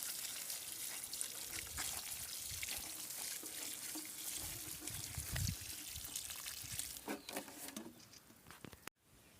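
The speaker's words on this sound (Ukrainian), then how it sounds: "Тепер просто під корінь їх поливаю." Water poured onto the roots of cucumber plants outdoors, a faint, continuous patter and trickle that fluctuates gently before stopping abruptly, with no talking.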